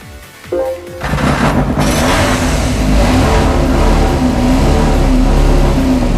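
Subaru Impreza touring car in Gran Turismo 5 starts with a short burst, then its engine revs loudly and steadily near at hand, holding a high, sustained drone with rising pitch for several seconds.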